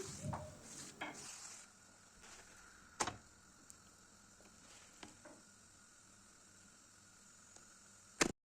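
Spinach börek frying in a shallow film of oil in a pan, with a soft steady sizzle and a few sharp clicks and scrapes as the pastries are turned, mostly quiet and close, with no talking.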